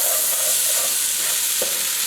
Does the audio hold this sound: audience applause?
no